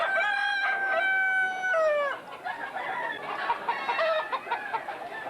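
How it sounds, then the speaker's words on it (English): Roosters gathered at a cockfight in Ubud, Bali, one crowing loudly and clearly in a long drawn-out call, followed by overlapping clucks and shorter crows from several birds nearby. "Here an enormous amount of cocks waiting to take part."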